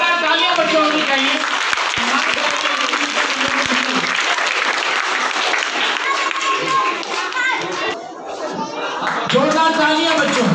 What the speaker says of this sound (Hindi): जोरदार तालियां बच्चों होनी चाहिए।